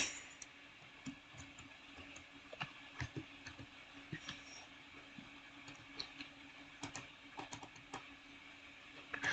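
Keys clicking over and over in an irregular rhythm on a computer keyboard during a game of Center Arisoft, quiet and close with a steady hum behind.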